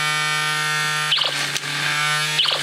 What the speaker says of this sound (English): this motor over here, this is the kicker motor. It runs this kicker arm